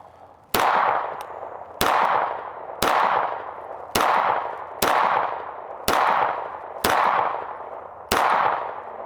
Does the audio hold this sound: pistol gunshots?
yes